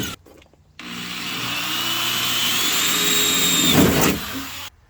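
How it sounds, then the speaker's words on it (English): A power drill boring holes in the panel of a tree-crushed 1979 Dodge W300 Club Cab truck, one continuous loud whining run of about four seconds that rises slightly before cutting off, no talking. "I believe I can mark 2 or 3 holes and drill them"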